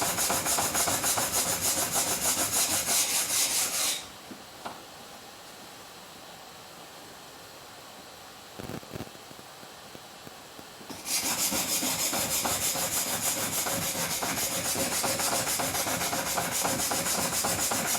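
A blade rubs back and forth over a wet 400 grit sharpening stone that builds its own mud, a loud, steady gritty scraping that pauses for several seconds midway before resuming just as strongly.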